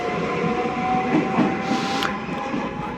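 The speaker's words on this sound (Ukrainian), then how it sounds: "Бачите, потяг, регіональний потяг курсує." A regional train passes through the small Italian seaside town of Falconara Marittima, a steady loud rolling rumble with a clattering hiss and a brief higher squeal near the end.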